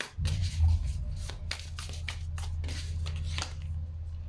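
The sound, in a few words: shuffling tarot cards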